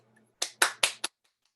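Four sharp, dry claps ring out one after another in a quick, slightly uneven rhythm, isolated and fairly quiet, with short silences around them.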